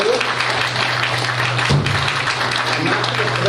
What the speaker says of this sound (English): this is not a place where we vote by clapping